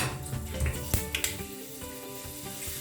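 Fenugreek and mustard seeds frying in hot oil for rasam: a close, crackling sizzle with a few sharp pops, steady throughout the short stretch.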